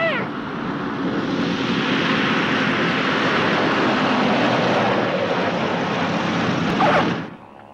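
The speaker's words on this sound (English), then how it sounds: "You don't get many planes flying over the island." A small aircraft flies over an island coming in to land, its engine a steady, broad, moderately loud roar that holds for several seconds and then cuts off abruptly near the end.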